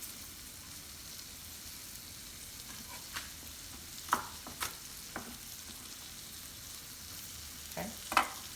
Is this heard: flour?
yes